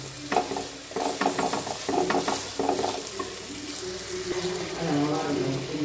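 A spoon stirs a Kerala-style chicken curry base frying in a pan, giving rhythmic scraping and sizzling strokes in short bursts, then a softer steady sizzle.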